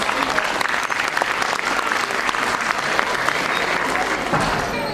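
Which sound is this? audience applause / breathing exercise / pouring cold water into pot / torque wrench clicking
audience applause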